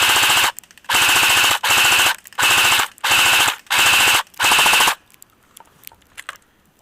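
An Echo1 Redstar AK47 airsoft rifle fires full auto in seven rapid, loud bursts with short pauses between them, then goes quiet once the magazine runs empty.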